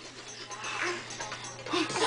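A dog whimpers in short, high, thin whines, close and fairly loud, over a brief stretch of indoor background noise.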